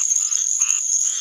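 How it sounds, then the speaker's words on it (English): A squirrel tree frog calls at close range in a Florida pine forest at night, a steady, raspy, buzzing trill that runs unbroken and loud with no voices over it. "It's a squirrel tree frog. That's what's making that noise."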